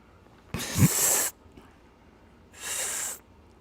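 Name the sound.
imitated sniffing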